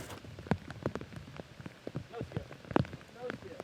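Steady rain patters on a disc golf course during a tournament round, a continuous wash with scattered louder drop hits, while a commentator talks over it.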